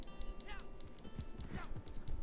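Horse hooves clip-clopping at a brisk pace in Red Dead Redemption 2, close and fairly quiet, with a player talking over them.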